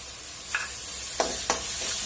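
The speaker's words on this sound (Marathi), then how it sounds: "चांगली परतून घ्यायची आहे तेल सुटेपर्यंत" Tomato paste and masala sauté in oil for Kolhapuri misal, a soft continuous sizzle broken by a few brief stirring scrapes of a spoon in the pan, no voices.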